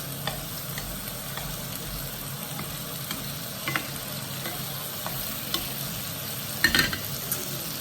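Quail frying in a pan while being stirred: a steady close sizzle runs throughout, broken by occasional scraping and light clinks of the utensil, with no talking.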